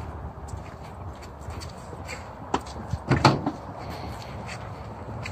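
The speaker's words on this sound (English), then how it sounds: "You can press a button and close the door" A Dodge Grand Caravan GT's power sliding side door closes with a soft whir, then a firm thud about two thirds of the way in, against quiet background noise.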